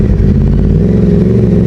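Yamaha R1 sport motorcycle on a ride, a loud close engine note with rough, pulsing mid-range rumble held steady for a couple of seconds, no voices.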